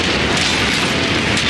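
A missile explosion in MechWarrior 5 lands as one short, loud, sustained boom with a crash-like roar, heard alone with no talk.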